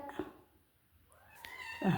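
A cat meows up close, a rising drawn-out cry near the end after a few faint soft sounds, in a quiet household setting.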